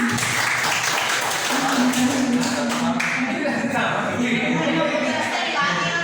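An audience of teachers at a training session claps together, a dense, steady patter that runs the whole time while voices carry on over it.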